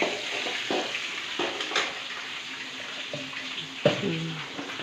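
Oil tempering in a pan with mustard seeds, peanuts, dal and cumin, a steady hiss and crackle with scattered pops and a few clinks from the pan.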